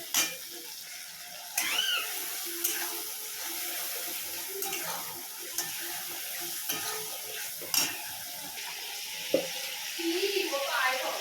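A ground spice paste and tomato fry in a pan for khichuri, sizzling steadily while a spoon scrapes and stirs it. Intermittent clinks and knocks sound through the frying hiss.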